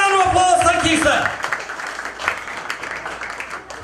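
An audience applauds at a mentalism show, a burst of clapping that rises as a voice fades, then continues as a moderate, scattered crowd patter.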